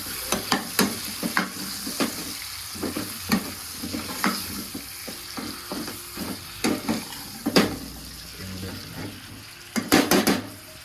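Chicken pieces frying with turmeric in a hot pan, a loud steady sizzle broken by repeated clanks and scrapes of a spoon stirring against the metal.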